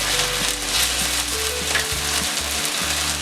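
Soya Manchurian sizzles and fries steadily in a hot pan while chili sauce, tomato sauce, soy sauce and vinegar are poured in, with a continuous crackle and a few soft stirring scrapes.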